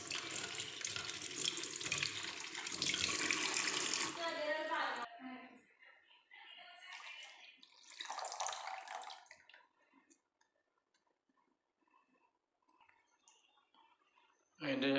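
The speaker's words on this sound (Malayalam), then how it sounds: "കവറിലേക്ക് തന്നെയാണ് വെള്ളം പിടിക്കുന്നത്" Tap water runs straight into an opened soup powder packet while vegetable soup is prepared, a steady rushing flow for about four seconds before it cuts off, followed by brief speech and quiet.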